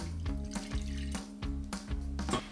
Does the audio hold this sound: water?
yes